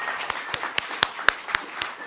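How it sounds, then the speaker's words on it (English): Steady, evenly paced clapping for a group of Alpha Phi Alpha fraternity steppers at a Black History Month career event, crisp beats repeating about four times a second, moderately close with no talking. "if we could give a quick round of applause for those fantastic steppers"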